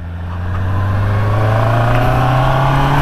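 A Honda CBR 650R E-Clutch motorcycle engine climbs in a steady rev. Its loud, close inline drone rises gradually in pitch over about three seconds with no break and no voices.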